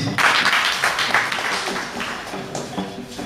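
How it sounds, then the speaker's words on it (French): A crowd claps at a digital-careers panel forum in Porto-Novo, a dense burst of applause that starts strong and gradually thins and fades toward the end. "Applaudissez pour lui aussi."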